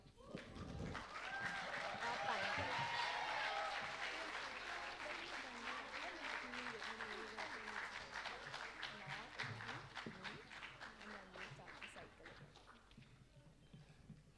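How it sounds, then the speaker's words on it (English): An audience at a school English interpretative reading competition claps steadily, a dense wash of applause that swells early and then slowly fades, with voices murmuring underneath. "Let's have another round of applause for that performance."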